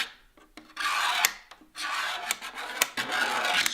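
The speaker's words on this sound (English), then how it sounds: "Scrape it all down" A panel on a Ford Bronco build is scraped down in repeated rasping strokes, close and harsh, separated by short pauses.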